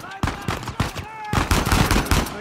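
Rapid bursts of gunfire in the video game Uncharted 4, loud and close, with sharp repeated shots clustered through the moment and a voice calling out briefly among them.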